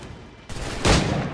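Gunfire in Assassin's Creed 3, a short burst of shots from period firearms: a sharp onset around the middle, then a louder, denser blast near the end, with no talk over it.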